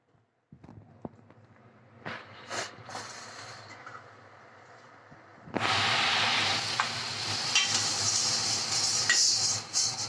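After a few clinks and knocks, pieces of mutton drop into spice paste frying in a pan, and a loud, sustained sizzle suddenly erupts and continues to the end.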